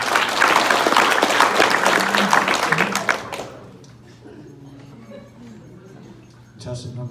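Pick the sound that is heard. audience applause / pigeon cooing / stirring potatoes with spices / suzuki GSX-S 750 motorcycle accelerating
audience applause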